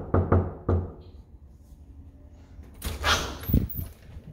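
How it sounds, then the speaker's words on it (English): Three quick knocks on an apartment door sound close and sharp at the start, followed by quieter shuffling and a thump as the door is handled. "maybe we should knock first."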